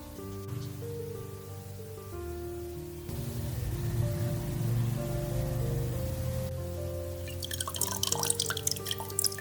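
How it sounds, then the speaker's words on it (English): A 5-volt mini water pump drips water into a small planted tank: a steady low motor hum with a patter of close drips that grows busier and splashier toward the end. "A 5 volts mini water pump."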